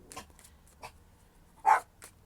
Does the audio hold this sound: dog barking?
yes